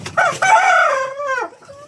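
A single native chicken rooster crows, loud and close, rising then trailing off in a drawn-out call.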